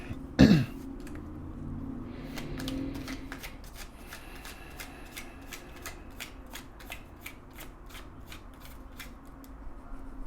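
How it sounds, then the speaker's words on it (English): Oracle cards being shuffled during a tarot reading, a rapid series of crisp flicking riffles lasting several seconds at close range, preceded by a brief throat clearing. "But let's get another oracle card."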